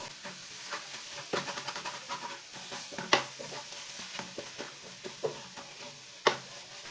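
A spoon stirs carrot halwa with semolina being roasted in a pan, giving repeated scraping strokes over a soft, steady sizzle, close and fairly quiet.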